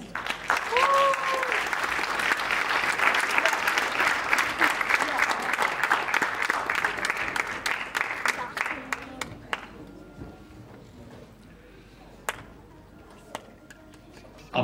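Audience at a children's drama festival applauding, a dense, sustained clapping from a sizable crowd that thins into a few scattered claps and fades near the end, with a voice on a microphone underneath.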